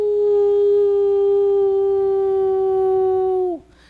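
A human voice imitates a dog's howl: one long, loud, sustained tonal howl held steady for a few seconds, then sliding down and cutting off abruptly.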